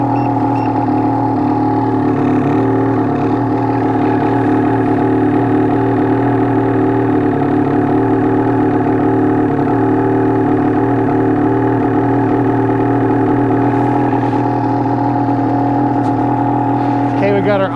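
A Ski-Doo turbo snowmobile fitted with an aftermarket turbo muffler idles steadily, a loud, even engine drone with a strong low hum that holds throughout.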